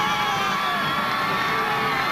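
Big crowd roaring and cheering without pause at a 4A state girls' high school basketball championship between St. Paul Central and Minneapolis South, dense and loud with children's shouts and whoops mixed in.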